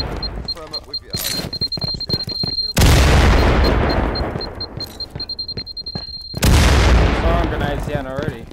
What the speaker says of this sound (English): Throwing grenades down already.